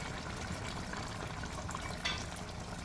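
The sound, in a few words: pouring water into curry steamed fish pot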